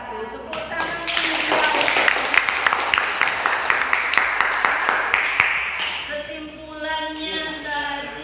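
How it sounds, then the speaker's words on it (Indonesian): A physics class applauds after a group presentation, with close, loud, brisk clapping from many hands running for several seconds, then a speaking voice as it tapers off. "Tepuk tangan."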